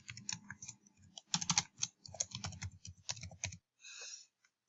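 Quick bursts of typing on a computer keyboard as an email address is entered, close and quiet, irregular clicks in short runs ending with a pause and a final keystroke.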